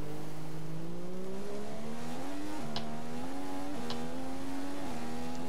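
Ferrari-engined Formula 1 car from the F1 2015 racing game during practice in China, a steady, loud, high engine whine that climbs and dips in pitch through several gear changes without pause.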